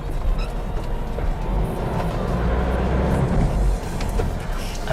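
A 2013 Ford Ranger 2.2 Open Cab Hi-Rider XLT pickup with a manual gearbox drives along, its engine and road noise a continuous low rumble heard from inside the cab, with no talk.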